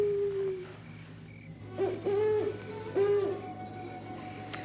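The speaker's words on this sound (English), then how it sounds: "That's just an old owl." An owl hoots outdoors at night, several soft tonal hoots in a loose rhythm with short pauses between them, at moderate distance, with no talk.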